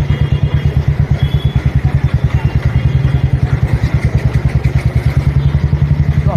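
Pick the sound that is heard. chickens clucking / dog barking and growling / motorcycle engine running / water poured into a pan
motorcycle engine running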